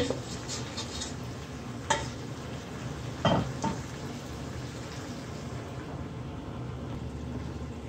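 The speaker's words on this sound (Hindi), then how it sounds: "अब इसको मिक्स करते हैं। 3 से 4 मिनट हल्की आंच पे इसको भी छोड़ देते हैं।" A spoon stirring aloo palak, a potato and spinach sabzi, in a pan over low heat: a steady soft sizzle with a few scraping clinks against the pan, close and without talk.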